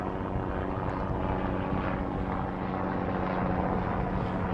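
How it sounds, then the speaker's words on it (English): Helicopter flying overhead on a sunny day near the coast of West Wales, a steady, continuous rotor and engine drone heard from a distance with a constant level throughout. "that helicopter blessed us with its presence"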